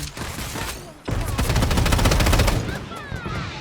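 Gunfire in the shooter video game Strinova: a sustained burst of rapid automatic shots fills most of the clip, loud and close, after a shorter stretch of quieter game sounds.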